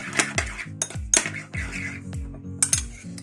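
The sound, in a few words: mixing finely chopped coriander garlic butter in a bowl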